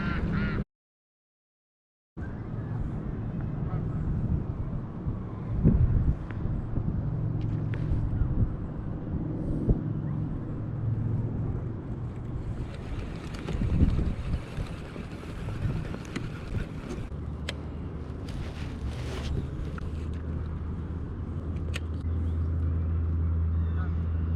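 A small fishing boat's outboard motor hums steadily, close by, through the whole stretch, with wind buffeting the microphone and someone talking over it.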